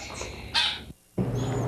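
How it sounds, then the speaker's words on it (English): Young corvid birds at a bird rescue give short, harsh squawking calls, two brief loud bursts separated by a moment of silence, close by. "They're also members of the corvidae family, and they're very intelligent, very social, which is why we like to group them together. And they like to vocalize a lot."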